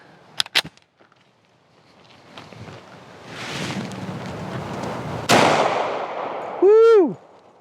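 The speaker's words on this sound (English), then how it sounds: "I got a pistol that was loaned to me. This is an EAS Witness 10mm, big old hoss." An EAS Witness 10mm pistol fires one loud, sharp shot up close. Brief knocks come before it, a noisy stretch holds around it, and a short rising-and-falling whine follows after.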